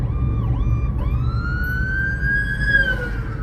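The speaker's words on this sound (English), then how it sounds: "Ambulance." An ambulance siren sweeps past on the road, its wailing tone rising and falling loud and close over steady traffic and engine rumble.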